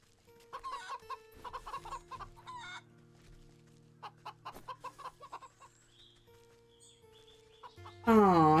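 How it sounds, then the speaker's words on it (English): Chickens cluck in the video game Wytchwood, a run of short repeated clucks in bursts over a steady game background tone, ending with a louder, wavering call. "Some chickens."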